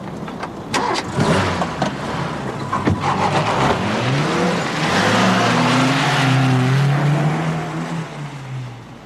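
A green Volvo car starts up and drives off, with a few sharp knocks and clunks first, then the engine rising and revving steadily as it pulls away, close and loud.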